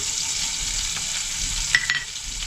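Cumin seeds, green chillies and curry leaves fry in a spoonful of hot oil, giving a steady close sizzle and crackle with a couple of sharper pops near the end.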